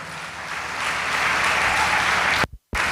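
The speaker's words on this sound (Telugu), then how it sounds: "చప్పట్లు కొట్టండి అందరూ గట్టిగా." Congregation clapping loudly together at a Sunday church worship service, a dense steady wash of applause that builds, cuts out abruptly for a moment near the end, then resumes.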